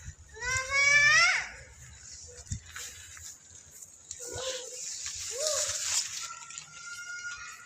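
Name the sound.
goat bleating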